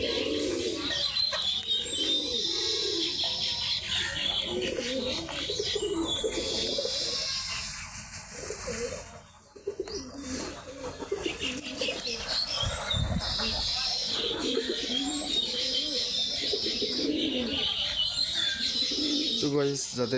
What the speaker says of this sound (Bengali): এখানে সব গিরিবাস কবুতার বিক্রি করা হয়